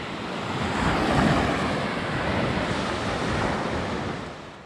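Sea waves roll onto a beach in Greece, a broad continuous wash of surf that swells and recedes gently, with wind buffeting the microphone and no voices.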